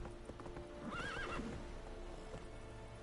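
Roach, the horse in the video game Witcher 3, with rhythmic clip-clopping hooves and a clear neigh midway, steady game sound with no talking.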